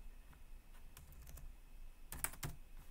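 Keys on a computer keyboard are tapped in a short, quiet burst, a scattering of soft clicks followed by a quicker cluster of keystrokes near the end, with no voice.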